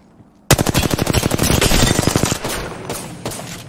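Golden Volt gun fired in a video game: a rapid burst of roughly twenty close, loud shots in steady automatic rhythm, then a few scattered single shots trailing off.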